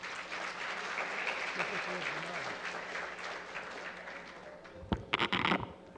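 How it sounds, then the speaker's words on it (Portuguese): Audience applause at a security seminar with a military commander present, steady clapping filling most of the stretch at moderate level, then fading out, with a few louder close claps near the end. "a quem eu peço uma salva de palmas"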